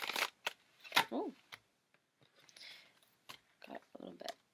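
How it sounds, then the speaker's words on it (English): Tarot cards being shuffled vigorously in the hands, a few sharp riffling bursts and soft slaps spaced through a quiet room, close to the microphone. "got a little bit aggressive with the shuffling."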